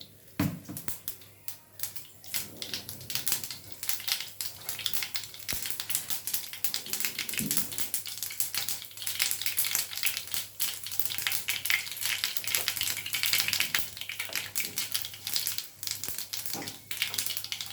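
Steady crackling sizzle of seeds frying in hot oil, with rapid popping and spattering throughout, fairly close and continuous.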